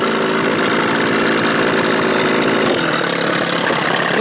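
A Johnson Evinrude 25–30 hp outboard motor runs steadily at a fast idle, a loud, close, buzzing drone that stays constant throughout with no talking.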